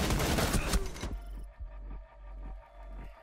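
Loud, dense burst of video-game gunfire for about a second, then quieter scattered impacts and thuds over a low rumbling background.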